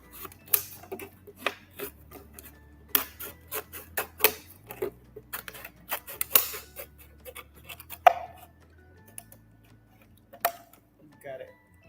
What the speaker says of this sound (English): After you make the cut, you can use scissors to cut the bottom half.